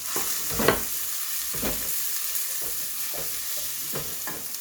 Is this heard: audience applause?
no